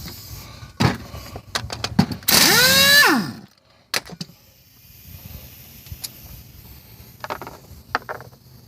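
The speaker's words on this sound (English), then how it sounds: "And I've got air tools, so it's going to go pretty quick." Air impact wrench removing wheel hub bolts with a 14 socket on a 2003 Ford Explorer, one loud whirring burst with a rising whine lasting about a second, among scattered clanks and taps of tools in a quiet garage.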